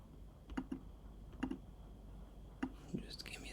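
Computer keyboard typing a command, several short bursts of soft clicking keystrokes in small clusters, close but quiet, with faint breathy noise and no clear talk.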